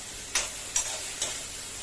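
Chopped onion, garlic and chilli fry in a pan, a soft continuous sizzle punctuated by three evenly spaced spoon taps or scrapes.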